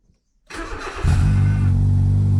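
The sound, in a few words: car engine starting and running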